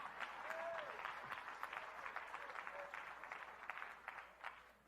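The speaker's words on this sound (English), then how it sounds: "come on, clap your hand" An audience at a leadership talk claps together in steady applause, fairly loud and continuous, thinning slightly toward the end.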